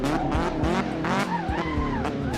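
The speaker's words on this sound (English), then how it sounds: "So right now we're gonna go drift a little bit," A car drifts in Assetto Corsa, its engine revving and shifting pitch while the tires let out wavering squeals through the slide. It is close and loud, with no talk over it.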